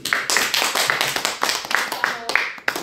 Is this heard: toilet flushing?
no